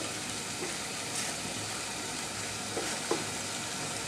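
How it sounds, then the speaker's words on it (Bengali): Koi fish with spices being sautéed in a pan: a steady, close sizzle of frying fills the whole stretch, with a few faint scrapes of stirring. "এটা আমি কই মাছটা একটু কষিয়ে নিলাম"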